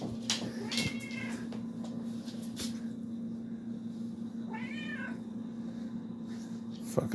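An elderly 20-year-old pet cat meowing, a few drawn-out, close meows over a steady low indoor hum.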